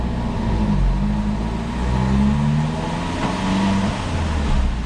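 Fiat 500 Abarth 1.4 turbo multi-air engine pulling in third gear on a dyno, a loud continuous drone with tones sweeping upward as revs climb, no voices.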